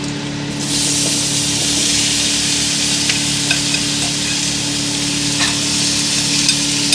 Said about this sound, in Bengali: মেখে নিয়ে এবার আমি কড়াতে তেল দিয়ে আমি হালকা করে নেড়ে নেবো